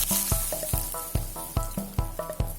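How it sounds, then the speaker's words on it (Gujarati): Mustard seeds, fenugreek and curry leaves tempered in hot oil, crackling and sizzling loudly and close, with repeated sharp popping bursts over a steady fry and no talking. "આ રીતે આપણે રાઈનો વઘાર કરી લેવાનો છે"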